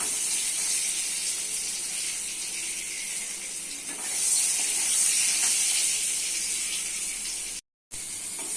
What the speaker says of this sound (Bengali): তেল গরম হয়ে গেছে দিচ্ছি পটল পটলগুলো একটু ভেজে দিতে হবে